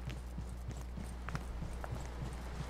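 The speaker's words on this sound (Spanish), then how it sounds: "¿Se escucha alguien corriendo?" Running footsteps in the Roblox horror game The Asylum: quick, regular thuds at a steady rhythm, faint and fairly distant, with no talk over them.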